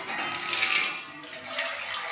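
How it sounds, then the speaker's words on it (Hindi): Water is poured into a pot of meat, pea and potato curry, a steady splashing hiss rising and easing for about two seconds. "अब इसमें हम थोड़ा सा पानी शामिल करेंगे।"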